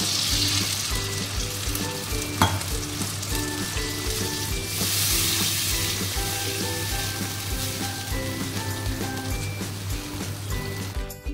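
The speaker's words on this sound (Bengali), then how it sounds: "মশলাটা আমার কষানো হয়ে গেছে, তেল বেরিয়ে গেছে বন্ধুরা, এই যে জল দিয়ে দিলাম" Masala fried down in oil for dhokar dalna sizzles loudly and steadily as water goes into the pan, a dense continuous frying hiss with a brief clatter early on and no talking.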